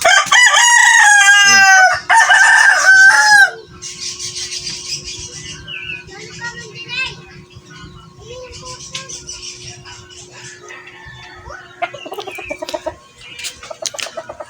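A hybrid-breed rooster crows loudly and close by in a backyard flock kept for sale, a couple of long calls at the start, followed by quieter clucking and chirping from the chickens.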